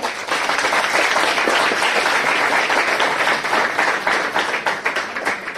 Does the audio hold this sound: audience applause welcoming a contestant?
yes